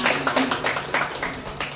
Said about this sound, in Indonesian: Tepuk tangan dulu dong Ibu.